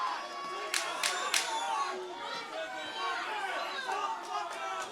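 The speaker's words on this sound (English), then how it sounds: "The crowd is on their feet." A boxing crowd on its feet, loud cheering and chatter swelling around the ring with sharp claps and shouts, while an announcer's voice carries over the noise.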